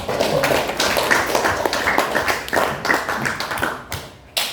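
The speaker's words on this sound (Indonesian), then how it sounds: "aplaus untuk kelompok 2" Classroom applause for a student discussion group, a dense patter of many hands clapping steadily for several seconds before tapering off near the end.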